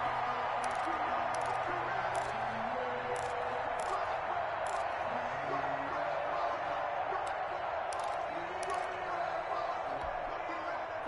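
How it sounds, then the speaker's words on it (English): A football video game stadium crowd keeps up a steady, dense roar of cheering throughout, with a commentator's voice running over it. "The crowd getting into it as we come up on a big 3rd down."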